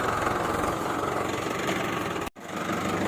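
A tractor engine idles close by with a steady low chugging rumble, briefly interrupted by a short dropout before resuming.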